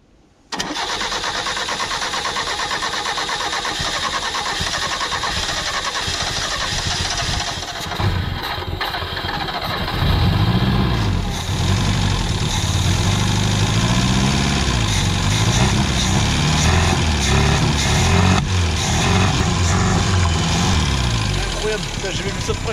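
A Simca 1100 engine cranks and catches right away, then runs steadily close by, rising in revs partway through. People talk over the running engine.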